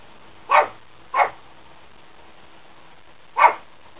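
A dog gives three sharp, separate barks, two close together and a third after a pause of a few seconds, each fairly near and loud against a quiet room.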